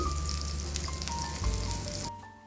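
King fish fries in a pan with a continuous close sizzle and crackle, which drops away abruptly near the end.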